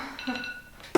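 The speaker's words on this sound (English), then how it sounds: "There's my alarm." A phone alarm goes off indoors, a short series of chiming electronic tones starting softly, followed by a brief louder rustle at the end.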